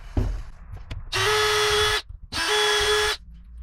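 A power drill boring screw holes into a wooden sole plate gives two loud, close, sustained high-pitched whirring bursts of about a second each, separated by a short pause.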